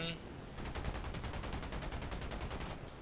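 Aircraft machine gun fire from a P-51D in the War Thunder video game: a steady, evenly spaced burst of rapid shots lasting about two seconds, fairly loud against constant engine noise, with no speech.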